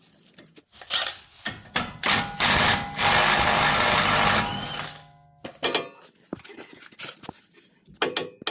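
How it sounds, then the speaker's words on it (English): Impact wrench loosening a 35mm axle nut on a 2012 GMC Terrain, with rapid rattling bursts of hammering, loudest in a sustained run of about two seconds, between clanks of tools and metal. "then we're gonna use the impact to finish it off"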